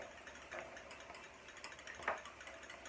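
Salt and pepper grinders turn over a crustless quiche mixture of whisked eggs, making faint, soft crunching grinds in a couple of short bursts in a quiet kitchen.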